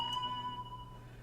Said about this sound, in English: That was my phone bing.